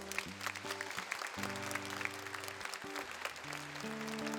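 A church congregation claps at a Thursday Eucharist service, a continuous crowd of hands heard under sustained organ or keyboard chords that shift pitch every second or so.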